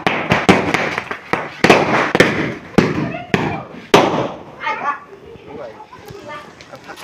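Diwali firecrackers go off in a rapid series of sharp, loud bangs, then thin into scattered pops and crackles while people talk nearby.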